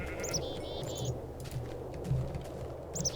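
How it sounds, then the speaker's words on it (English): Several sheep in Minecraft bleat in short, nasal calls scattered over a steady background hum, a few close, overlapping bleats with brief gaps between them. "More sheep. Excellent."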